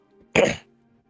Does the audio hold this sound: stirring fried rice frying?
no